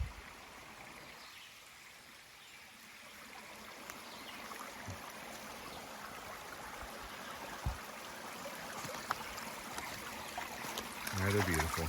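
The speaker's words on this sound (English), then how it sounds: "just enjoy the babbling brook" Babbling brook on a backyard woodland walk, a soft continuous trickle and burble of water heard fairly faint with a few light knocks and footsteps, no talk.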